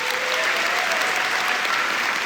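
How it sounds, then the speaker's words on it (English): An audience at a political party gathering claps together in sustained, loud applause, a dense, even patter of many hands with no speech over it. "give yourselves a round of applause because you're the most special people"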